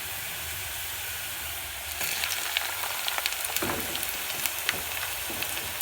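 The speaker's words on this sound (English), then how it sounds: "My onion is nice and cooked, so I'm going to add my tomatoes at this point." Tomatoes dropped onto cooked onions burst into a loud, crackling sizzle partway through, replacing a quiet pan hiss with steady frying and spatter while githeri with cabbage and potatoes is prepared. No one speaks.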